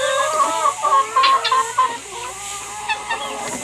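Chickens cluck and squawk excitedly while being fed fruit, vegetables and lettuce in a tropical backyard, a close, busy flock with overlapping calls.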